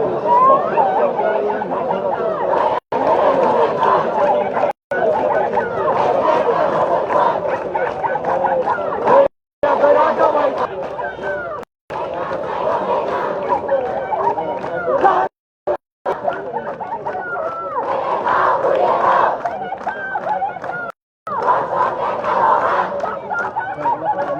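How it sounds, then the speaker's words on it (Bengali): A large protest crowd at Dhaka University gathers late at night in front of the Raju Sculpture, chanting slogans demanding the death penalty for rapists. The loud, sustained shouting is broken by a few brief pauses. "বিভিন্ন স্লোগান দিচ্ছে"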